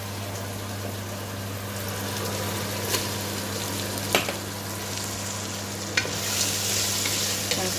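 Green peas are stirred into fried potatoes and keema for Aloo Matar Keema, producing a continuous close sizzle with scraping stirs and a few sharp utensil clicks over a steady background hum.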